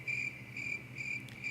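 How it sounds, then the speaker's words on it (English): Crickets chirp in short repeated bursts, a steady pulsing trill over a low background hum, no voices present. "It's fucking crickets."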